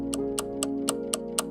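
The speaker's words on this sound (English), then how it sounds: "listen for the ticking." A clock ticks in an even rhythm, about four crisp ticks per second, close and distinct over a low, sustained musical drone.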